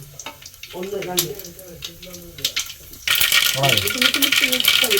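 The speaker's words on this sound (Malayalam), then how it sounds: "കടുക് പൊട്ടണ വരെ കാത്തിരിക്കുക" Mustard seeds crackle and pop in hot oil for rava upma, starting as a voice talks, then bursting into a loud, dense spatter of sharp pops that keeps going to the end.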